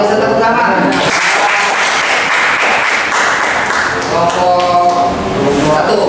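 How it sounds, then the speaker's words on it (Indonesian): An audience at a national training session in a hotel claps steadily and densely throughout, a continuous broad wash of applause with some voices mixed in. "Luar biasa, tepuk tangan."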